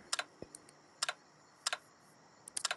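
A computer keyboard is typed on in short bursts of quick, light keystrokes separated by brief pauses, quiet and close with no talk.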